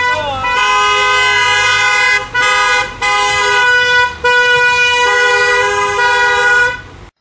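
Car horn honking in town, loud sustained blares broken by a few short gaps, close and harsh.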